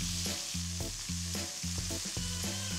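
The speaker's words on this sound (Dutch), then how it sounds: "Het vlees mooi bruin bakken." Steady, close sizzling from beef browning in a hot pan, a continuous crackling hiss with no talking.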